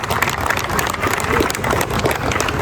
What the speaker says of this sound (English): A huge round of applause to Cyber Dunes.